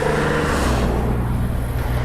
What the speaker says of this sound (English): as you can probably hear, there's a lot of traffic